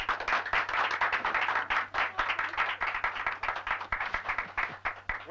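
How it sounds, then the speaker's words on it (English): A round of applause for a talk show guest, a choreographer, in a small studio audience: brisk, fairly close clapping with distinct individual claps, steady throughout. "Let's have a big round of applause for Elsie Doty."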